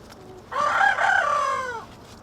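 A single rooster crows once, a loud drawn-out cock-a-doodle-doo nearby, with quiet background before and after.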